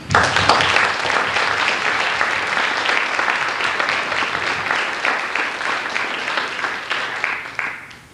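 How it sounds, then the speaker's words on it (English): Sustained audience applause at an academic lecture on Islamic gardens, dense and fairly loud clapping from a large room that holds steady for several seconds before tapering off at the end. "I would like to suggest an applause for Charles Satterfield."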